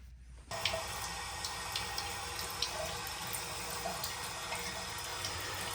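Tap water runs steadily and close by as a paint brush's filaments are moistened before painting a door, a continuous splashing flow after a brief quiet start, with no voices.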